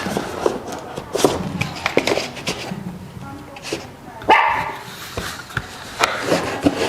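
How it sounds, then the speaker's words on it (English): Dogs bark repeatedly in short, irregular bursts, with a few higher yips and whimpers mixed in. "There's my guard dogs."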